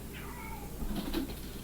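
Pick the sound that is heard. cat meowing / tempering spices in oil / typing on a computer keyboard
cat meowing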